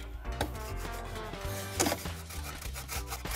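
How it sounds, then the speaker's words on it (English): Lemon zest is scraped on a hand grater in short, close rasping strokes that repeat unevenly, soft but clear, with no talking over it. "I'm just going to grate a little bit of the lemon zest in there."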